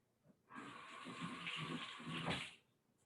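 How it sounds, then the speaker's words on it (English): Tap water runs steadily for about two seconds as a tomato is rinsed under it at a kitchen sink, a close, continuous splashing hiss that starts and stops abruptly. "So I'm gonna wash my tomato."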